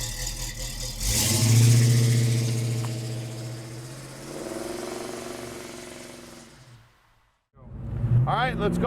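A 1970 Chevelle convertible with a small block V8 revs through its exhaust, a deep rumble swelling up and easing back twice, then a pause before a voice speaks over the idle.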